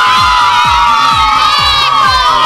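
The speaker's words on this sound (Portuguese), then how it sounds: "Eu quero ouvir a torcida do Cruzeiro." Cruzeiro supporters at a neighborhood football project event in Paracatu's Alvorada district cheer and shout loudly together, a close, sustained crowd roar with repeated pulsing vocal chants.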